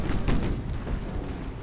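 Big naval guns firing in Ultimate Admiral Dreadnoughts, a short, deep booming blast with rolling rumble and a muffled follow-up thud, heavy and distant-sounding.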